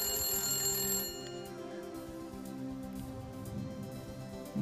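A telephone rings with an incoming call in a television studio during a live call-in show, a steady electronic ring at moderate level filling the first second before fading under a low hum.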